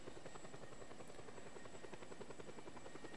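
Helicopter rotor chopping steadily and close in the open-world game Just Cause 2, a dense, continuous beating drone with no voices.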